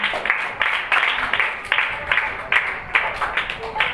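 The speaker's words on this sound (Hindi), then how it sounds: "उस जिंदा यीशु के लिए जोरदार तालियां बजाएं।" A church congregation at a Sukkot feast service claps in unison. Sharp, regular bursts land about twice a second with a faint murmur beneath.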